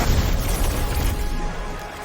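A grenade blast in the Destiny video game, a heavy low boom rolling out and lingering for a couple of seconds with no one talking.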